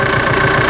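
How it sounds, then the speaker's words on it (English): A Massey Ferguson tractor engine idles steadily nearby, a continuous low mechanical hum with a faint rhythmic knock, alone with no talking. "I've started the tractor"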